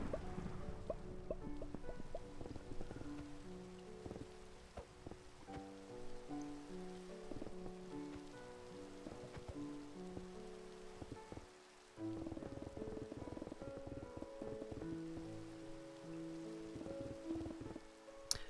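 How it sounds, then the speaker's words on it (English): Minecraft rain falls as a soft, continuous patter on the PS4 edition, joined by gentle melodic tones and a faint thumping that drifts in and out throughout. "Has it really been raining for an hour?"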